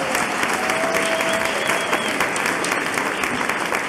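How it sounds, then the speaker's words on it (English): A concert audience gives the choir a dense, sustained round of applause, steady and loud throughout with no break, the clapping filling the hall. "big round of applause for the lovely choir one more time"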